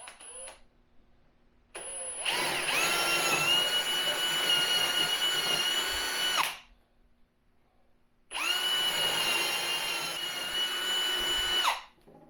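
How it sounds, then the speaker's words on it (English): A power drill countersinks screw holes in wood for the latch of a gadget geocache. It gives two sustained whining runs of about four seconds each, separated by a short pause, with no talking. "I'm going to countersink these screws that go into the actual latch"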